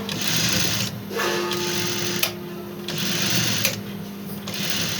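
A sewing machine stitches a homemade cloth face mask in close, rapid whirring bursts, pausing and restarting several times with soft mechanical clicks between runs.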